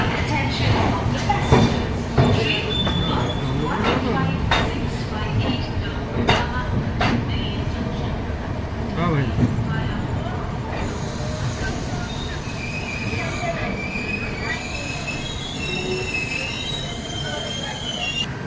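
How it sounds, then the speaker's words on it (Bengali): The Brahmaputra Mail pulls into Rangiya Junction with loud, steady rumbling and clanking of the wagons, and a high, sustained wheel squeal rises in the last several seconds. "নির্ধারিত সময় থেকে 3 ঘন্টা 50 মিনিট দেরিতে ট্রেন এসে পৌঁছালো তার ফার্স্ট হল্ট রাঙ্গিয়া জাংশন"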